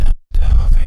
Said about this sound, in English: you get this distorting wind effect